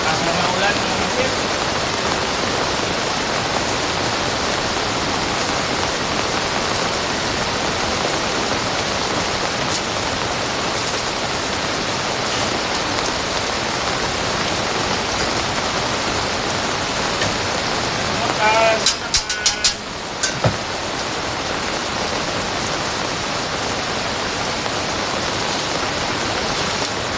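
Steady, heavy rain pours down around outdoor welding work in stormy weather, a dense continuous hiss filling the whole stretch, with a brief cluster of sharp crackles near the end.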